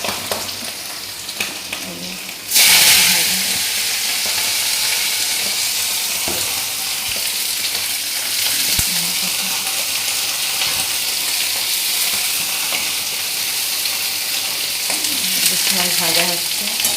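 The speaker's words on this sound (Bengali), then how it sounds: "মাছ ভাজা হচ্ছে, কেন্দুরি ভাজা।" Fish frying in a pan gives a loud, continuous sizzle, broken by repeated scraping stirs throughout, with no one speaking.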